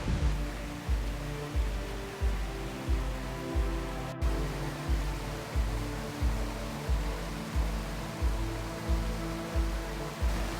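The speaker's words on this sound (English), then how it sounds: "And I love the sound of water." Water flowing along a hiking trail near a river, a steady broadband rush with rhythmic surging pulses roughly every second, continuous and fairly close, with no voices.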